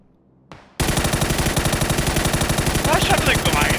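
Rapid automatic gunfire in PUBG bursts in loud and close after a brief quiet moment, a sustained rattling stream of shots with a few faint sharper effects near the end.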